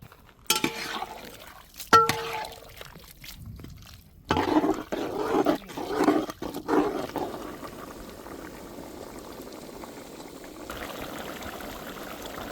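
Drumsticks cooking in paya masala in a pot, starting with a couple of metallic clinks and stirring scrapes, then a quieter steady bubbling simmer that carries on alone, close by with no talking.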